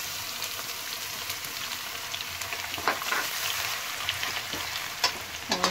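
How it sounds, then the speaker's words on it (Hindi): Finely chopped garlic sizzles and crackles in hot oil with whole spices while cooking a maize-flour kadhi, a steady close frying hiss with small pops and stirring clinks. "अब डाल देंगे हम इसमें ये बारीक कटा हुआ लहसुन,"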